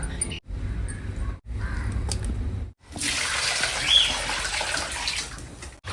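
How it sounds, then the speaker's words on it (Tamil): Pieces of country chicken are washed in water nearby, with bursts of sloshing and splashing, brief pauses, then a longer, fuller stretch of swirling water. "நல்லா கழுவி எடுத்தாச்சுங்க இந்த லாஸ்ட்டு கழுவல்"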